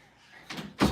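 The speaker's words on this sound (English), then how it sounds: "Okay, close the door." A door is pushed shut indoors: a soft sliding brush followed by a louder thud of it closing, close by and brief, with no talking.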